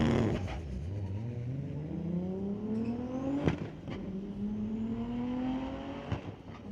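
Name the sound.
1995 Toyota Supra street car drag racing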